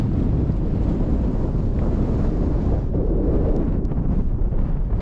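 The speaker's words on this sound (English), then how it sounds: "The wind is blowing now" Strong wind blows steadily across an open hill summit near a stone shelter, a loud, constant roar buffeting the microphone with no voices.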